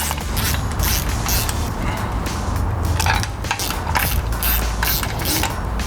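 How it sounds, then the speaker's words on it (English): Ratchet clicking steadily while bolts are tightened down evenly during a CARLI 4.5-inch pintop lift and suspension kit install on a new Ford F250, with rhythmic repeated strokes, close and loud. "Now that I got all those started, I'll go ahead and torque them down evenly."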